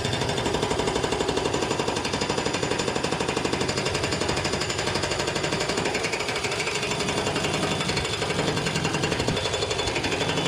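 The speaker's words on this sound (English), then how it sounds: "I got the air wrench on there, and then it's a matter of just pushing the button and let it pop, pop, pop" Air impact wrench hammering steadily on a mower blade bolt of a Bobcat ZT2000 zero-turn mower, a loud, fast, unbroken rattling that runs close and alone for about ten seconds.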